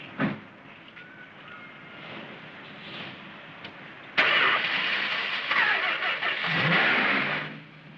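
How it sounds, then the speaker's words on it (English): 1971-era car with a dirty carburetor cranking briefly, then catching and revving up loudly, the engine surging and settling over several seconds. "Try and start the car now."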